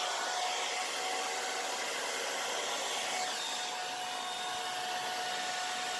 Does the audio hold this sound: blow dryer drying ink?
yes